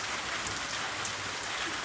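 Light rain falls steadily in Gir, a soft continuous patter on surfaces with no voices.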